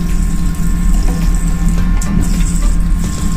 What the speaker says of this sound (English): we turn it clockwise on this position, we can now have the hot water.